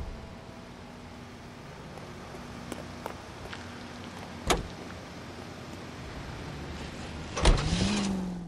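A car in the video game LA Noire, with a door sound and thumps, a low idling engine, then the engine starting and revving near the end, no talking.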